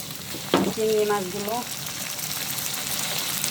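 Shrimp frying in a pan with chopped onion and green chili, giving a steady sizzle with a sharp burst as something is stirred in, while a voice briefly sounds over it.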